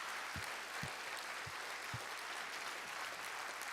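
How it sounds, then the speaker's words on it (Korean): At a New Year's Eve worship service, a church congregation claps in thanks to God, a faint, distant, steady wash of applause with a few low thumps. "우리 하나님께 감사의 박수 올려드리겠습니다."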